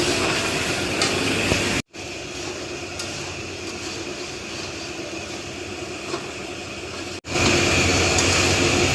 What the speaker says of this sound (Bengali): এখন সবই কষানো হচ্ছে